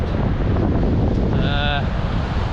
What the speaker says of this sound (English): I do hope you can hear me because it is incredibly windy